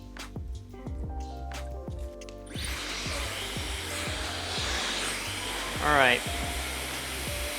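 A hair dryer fitted with a concentration nozzle blows steadily on hair, its whine and rushing air rising once it switches to a stronger setting, with a brief spoken phrase near the start and repeated rhythmic brushing strokes throughout.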